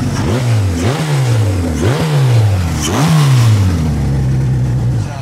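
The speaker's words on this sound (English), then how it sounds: "The bike starts up and runs perfectly every time." A 1978 Kawasaki Z1R-TC turbo motorcycle engine runs up close, loud and steady, with four rising revs that each fall back to idle before holding a steady idle at the end.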